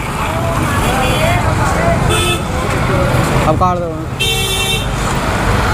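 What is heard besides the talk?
heavy road traffic with car horns near the Taj Mahal, Agra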